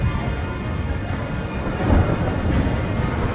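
Heavy rain hisses steadily while a deep thunder rumble swells near the middle, a loud, continuous storm bed with no voices.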